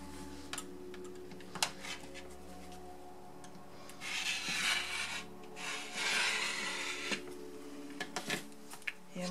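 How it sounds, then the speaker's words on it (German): Rotary or scissor cutting through patchwork fabric diagonally along a drawn line, giving soft, close rasping strokes in two bursts over a quiet background with small taps. "Legen es hier an der gezeichneten Linie an, schneiden diagonal, hier ist die eine Seite und dann die andere Seite."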